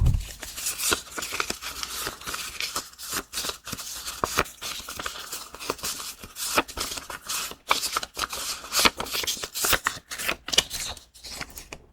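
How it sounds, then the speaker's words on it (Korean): Tarot cards are riffled and shuffled close up in a quiet whisper-style setting, a continuous flurry of quick papery flicks and slaps of varying density, soft and intimate, with no voices. "조언 카드를 뽑아보겠습니다"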